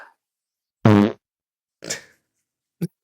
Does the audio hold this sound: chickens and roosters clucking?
no